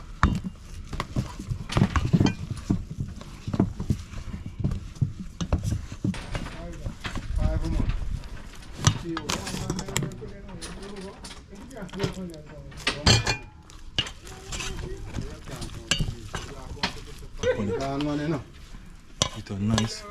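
Gari made from cassava is stirred into a coconut sauce cooking with quail in a pot. Scraping and knocking from the spoon come through a soft simmering hiss while people talk steadily over it.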